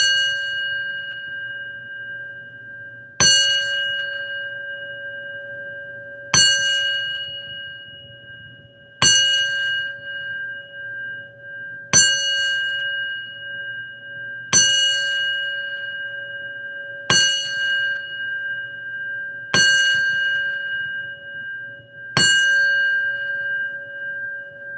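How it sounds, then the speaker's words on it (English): A ten-bell salute sounds as a single bright bell struck repeatedly at an even pace about three seconds apart. Each strike rings out clearly and decays slowly before the next, with no voices over it. "10-bell salute."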